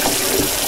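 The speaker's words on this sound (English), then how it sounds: "now we just need 4 cups of water about in there," Water runs into a watering can as it is filled with about four cups, a steady rushing pour that lasts the whole short moment with no voices.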